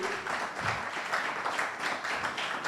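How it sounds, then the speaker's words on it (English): An audience claps steadily and continuously for the Attorney General of Oyo State at a Nigerian Bar Association law week event, a dense sustained round of applause with no voices on top. "please keep clapping well for him"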